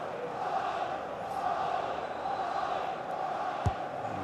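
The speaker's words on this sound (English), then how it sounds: "Fans in full voice, as you'd expect here at the Emirates this afternoon." Stadium crowd noise at the Emirates in the EA FC 25 football game during Arsenal vs Brentford, a steady distant roar of fans in full voice with one sharp thump near the end.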